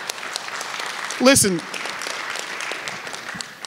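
A church worship service crowd claps steadily in a soft, continuous patter while a voice speaks briefly over it.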